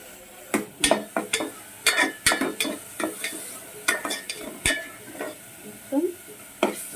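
Mutton kheema is stirred and fried in a pan, with a spoon scraping and knocking against the metal in a quick irregular rhythm over a soft sizzle, close and fairly loud.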